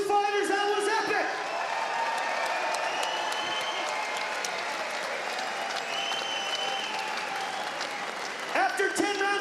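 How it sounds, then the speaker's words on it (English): A boxing crowd applauds the two fighters after a ten-round bout, a broad, sustained roar of clapping with scattered cheers, while an announcer's amplified voice speaks over it at the start and end. "can we please have a round of applause for these two fighters?"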